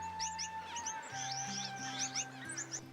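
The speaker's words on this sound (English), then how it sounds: "Brightly coloured grass finches come in to drink every few hours." Brightly coloured grass finches at a Central Australian waterhole give rapid, high chirps and tweets in a busy overlapping chorus, fairly near and clear over a faint low background hum.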